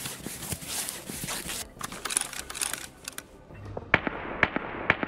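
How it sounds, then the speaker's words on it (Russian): Sniper rifle shots crack in Escape from Tarkov amid background game noise, several sharp reports scattered across the moment with a few crisper, louder ones toward the end. "Снайпер по кому-то стреляет."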